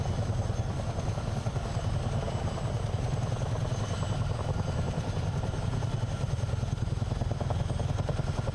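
Tandem-rotor CH-47 helicopter in flight in Microsoft Flight Simulator, a steady, loud, close rotor thump with a continuous low engine drone and no talk.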